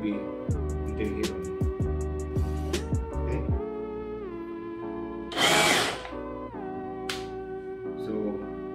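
A Bosch power drill fitted with a Bosch GDE18V-26D dust extractor whirs in repeated short bursts, then a louder grinding stretch as it bites into material, with brief pauses between runs.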